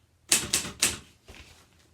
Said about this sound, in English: Farmer Brown got out his own typewriter, just like mine.